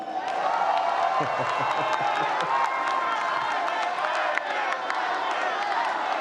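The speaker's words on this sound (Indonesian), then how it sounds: "Boleh sekarang tepuk tangan, mari." Audience applause at an Indonesian vice-presidential candidates' debate: a dense, continuous wash of clapping and crowd noise from a large hall, with a voice talking over it throughout.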